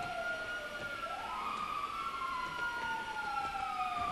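Police sirens wail in GTA Online, a steady rising-and-falling tone sweeping upward and then holding, fairly loud and continuous over a busy background with no talk.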